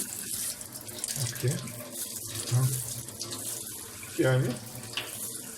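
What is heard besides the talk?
water running from a tap into a dishwasher installation test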